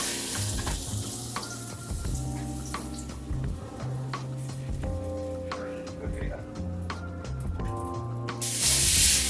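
A chili lime pork chop sears in a pan with a steady close sizzle and hiss, while a person talks over it and a sharper burst of spitting rises at the very end.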